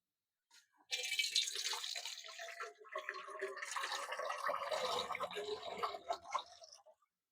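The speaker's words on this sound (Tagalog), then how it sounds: "Okay, lagyan na natin ng sabaw." Broth for batchoy poured into a cooking pot, a continuous splashing liquid stream that starts abruptly, runs steadily for several seconds with gurgling bursts, then tapers off, fairly close.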